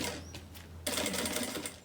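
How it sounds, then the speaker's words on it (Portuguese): A sewing machine stitches a plastic canvas beach bag in a steady, close, fast mechanical run that gets louder partway through, with no talking. "E costuro."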